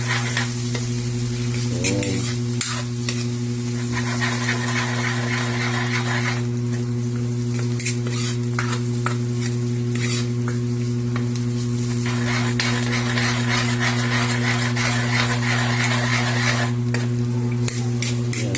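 Shrimp paste (ginisang bagoong) sautéing in a pan: a steady, loud sizzle of frying with repeated scraping and clinking of a utensil stirring against the pan, over a constant low hum.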